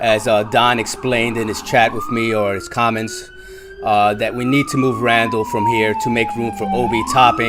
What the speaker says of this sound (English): I'm sorry, we got the ambulance back here in New York City.